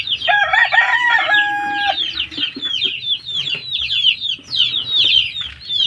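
Farm hens and chicks clucking and cheeping, with a rooster crow near the start, loud and close, a dense continuous chorus of poultry calls and no talk.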